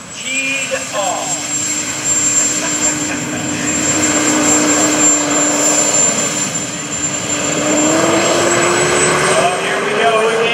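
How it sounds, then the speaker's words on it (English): A jet-powered golf cart roars at an airshow, its turbine whine steady and loud throughout with a high tone holding above a broad roar that swells near the end, while crowd noise sits beneath. "The jet car teed off."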